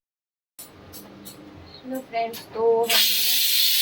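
A pressure cooker on a home kitchen stove releases a loud, continuous steam hiss that starts abruptly near the end and holds steady, following a few words from a woman nearby.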